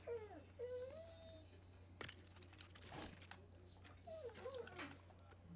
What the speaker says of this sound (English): that puppy is going crazy